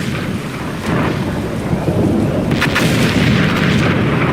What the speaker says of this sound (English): There's the explosion sound effect I was looking for.